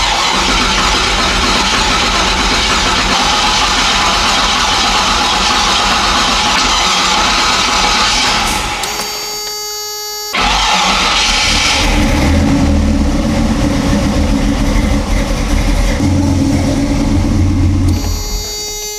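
A Toyota engine cranks steadily, catches and fires up, then runs loud and close with a rough, uneven idle after a brief pause in the cranking.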